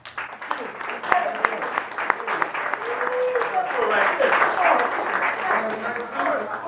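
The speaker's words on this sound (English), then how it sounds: "please welcome, big round of applause, please, for Mr. Carl Likas." A crowd applauds steadily for several seconds, a dense wash of clapping with a few sharper claps standing out, while an excited voice calls out over it.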